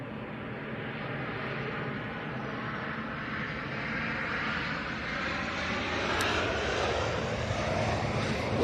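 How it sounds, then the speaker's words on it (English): A Qatar Airways Boeing 777 airliner at Manchester Airport roars steadily and loud, a broad continuous engine rumble that swells slightly as it passes, with no talk over it. "Qatar's on its track back now. It's 777 heading back to Doha."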